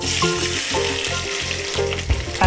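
Steady crackling sizzle of onions and curry leaves frying in hot oil, close and continuous, with a few sharper pops near the end.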